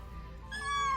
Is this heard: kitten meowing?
yes